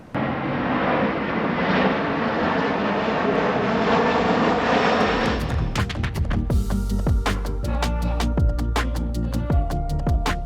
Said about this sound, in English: The plane's coming through. That was like right over our head.